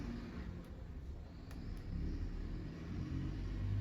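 Bus pulling up and stopping in front of a house, a steady low engine rumble that swells slightly as it draws near, heard on its own without talk.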